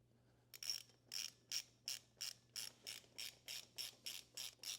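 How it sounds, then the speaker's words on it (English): A ratchet tightening the breather bolts on a Harley M8 motorcycle during a Feuling external breather install, about a dozen evenly spaced clicking bursts in steady rhythm, close and quiet with no talking. "So we'll get these tightened back down, our breather bolts."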